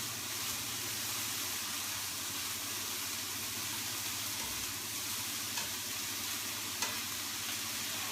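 Spring rolls fry in sunflower oil with a steady, dense sizzle and crackle that holds at an even level throughout, with a few faint clicks and no voices.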